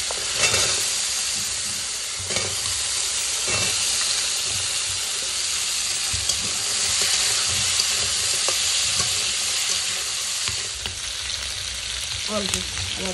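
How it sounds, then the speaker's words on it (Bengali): Jackfruit seeds are fried in a little oil for a curry, giving a steady close sizzle and hiss throughout. Occasional stirring taps and scrapes cut through, with no talking. "এটা হালকা তেলে ভেজে দিচ্ছি।"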